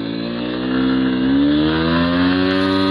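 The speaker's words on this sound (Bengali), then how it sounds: "তো চলুন এটা একটা শর্ট টেস্ট দেই যে আমার বাইকের এখন বর্তমান কন্ডিশন কেমন আছে" A Honda X-Blade motorcycle in first gear pulls hard, its engine note rising steadily and loudly as it accelerates. No other sounds are present.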